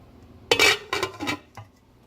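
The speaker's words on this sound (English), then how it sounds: "So I'm going to put the lid on now." A lid set onto a crock-pot of chili gives a short, close clatter of ceramic or glass, with a couple of quick rattles and a faint final tap as it settles.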